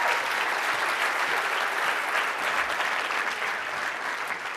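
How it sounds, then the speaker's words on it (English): A room full of people claps loudly and steadily for a woman, dense continuous applause holding at an even level from start to finish with no talk over it. "Give her a round of applause"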